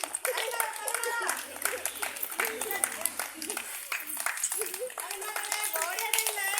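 Children clap their hands along with a sung chant in a classroom activity, the claps scattered and soft beneath loud young voices singing together.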